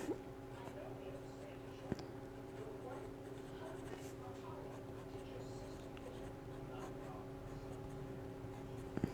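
A fountain pen with a medium nib scratches across paper while notes are written. The scratching is soft, continuous and close, with faint talk and a steady background hum beneath it.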